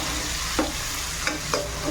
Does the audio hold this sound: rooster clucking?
no